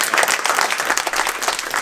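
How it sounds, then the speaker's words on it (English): Audience at a New York Comic Con 2019 panel on mental health and pop culture bursts into dense, steady applause, many hands clapping together close by for the whole stretch with no voices over it. "So give yourselves a round of applause."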